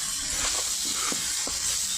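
A spoon scrapes and stirs tomato chutney in a hot pan. A steady sizzle hisses underneath a few soft, irregular stirring knocks, with no talking.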